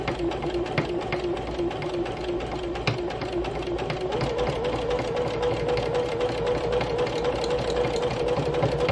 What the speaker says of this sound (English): all I'm going to do is put down my presser foot and just start sewing around it.